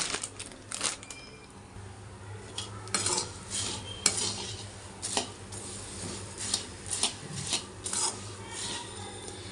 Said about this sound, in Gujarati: તો બીજા પણ આવી રીતે આપણે મમરા વઘારી લઈશું